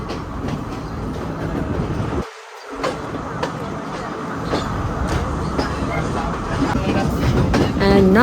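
A train runs along the railway near Nanoya station in Sri Lanka's upcountry, a steady, fairly loud rumble and rattle of carriages with rhythmic clicks, briefly dipping before continuing, with voices talking over it.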